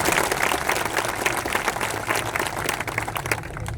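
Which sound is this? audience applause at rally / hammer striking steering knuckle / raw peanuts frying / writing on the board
audience applause at rally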